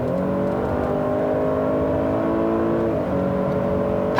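Naturally aspirated 310-horsepower V6 in a 2018 Buick LaCrosse Avenir revving hard under acceleration, a loud, steady engine note rising in pitch with a brief dip near the end as it shifts, heard from inside the car with no talk.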